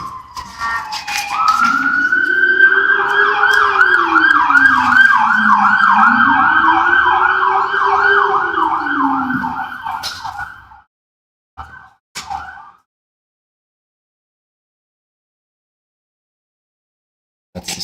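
An ambulance or police siren wails loud and close, a rising-and-falling tone layered over rapid yelping pulses, then cuts off with a couple of short bursts before silence.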